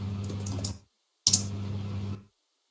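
Computer keyboard keys clatter in a fast run of soft clicks, then stop, resume in a second burst, and fall silent, heard close and faint over a low hum.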